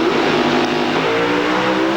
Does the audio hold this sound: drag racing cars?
yes